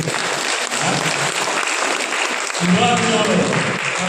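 Dense applause from a seated audience at a public gathering fills the room steadily, with a voice rising over the clapping in the second half.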